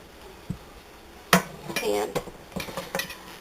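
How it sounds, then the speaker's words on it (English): Metal baking pans for shortbread being picked up and set down in a kitchen: a sharp clank, then a series of clattering knocks and scrapes, with a person speaking between the sounds. "let me grab my pan and I'll show you what happens next."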